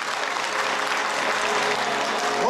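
An audience applauds at a children's dance ensemble concert, a dense, steady wash of clapping from a full hall that holds at even loudness throughout.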